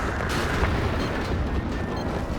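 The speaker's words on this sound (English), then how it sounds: "Artillery firing." Artillery firing in the video game Battlefield 2042: a continuous, heavy rumbling barrage with broad booming bursts, loud and dense throughout, with no talk.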